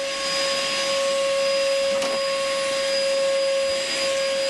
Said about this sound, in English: the noise in the background you can hear is the extractor working now